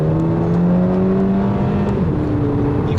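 2008 Volkswagen GTI accelerating from inside the cabin, a steady engine note climbing in pitch through the gears, loud and close with no talking.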